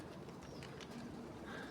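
Pigeons from a flock of around 150 coo softly and steadily at a distance, a low murmur running through the whole stretch with faint chirps above it.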